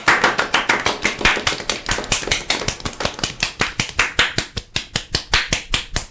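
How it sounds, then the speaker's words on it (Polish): A run of crisp, evenly spaced claps sounds close and dry at a fast, regular rhythm, like hands clapping together in time and prompted as applause for a comedian. "To będą chyba ostatnie brawa, jakie otrzymam"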